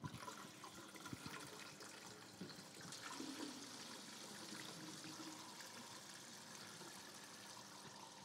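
Water poured gently onto plowed soil in a field, a steady soft splashing and trickling that runs continuously at moderate level with no talk.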